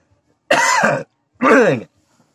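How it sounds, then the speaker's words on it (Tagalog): Two harsh coughs close to the mic, a short pause between them, then quiet. "Inuubo pa talaga ako"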